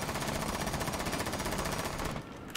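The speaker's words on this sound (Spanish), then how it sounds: "sin controlar ningún tipo de recoil, simplemente apuntamos y disparamos" Automatic gunfire in Rainbow Six Siege: a dense, loud, continuous stream of rapid shots with no recoil control, cutting off abruptly near the end.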